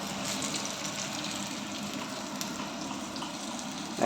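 Broasted chicken sizzles steadily in hot frying oil, a constant close, even crackle with no pauses and no talking.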